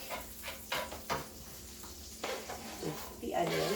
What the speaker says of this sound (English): now we are going to saute garlic